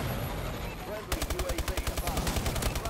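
Rapid automatic gunfire in a video game on the Detroit map bursts in after a second of quiet ambience, a near, loud, evenly spaced string of shots running to the end.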